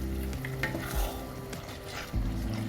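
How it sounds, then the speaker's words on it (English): Spices such as thyme and curry being stirred into a pepper stew frying in a pot, a soft continuous sizzle broken by a few scraping stirs of a spoon, with no one talking. "Gently stir it in."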